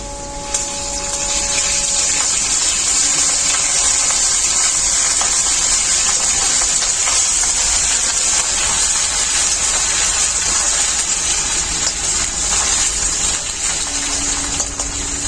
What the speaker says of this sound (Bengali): আদাও খুব ভালো করে ভাজা হয়ে গেছে।